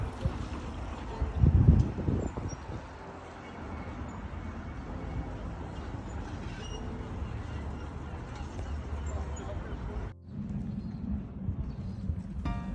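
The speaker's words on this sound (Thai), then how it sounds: "ได้ล่องเรือนะคะ กินลมชมวิวสวยๆ" A tour boat cruises along a canal in Leiden, Holland, its steady engine drone and water wash mixed with wind buffeting the microphone, with a brief louder rumble early on and a short dip near the end.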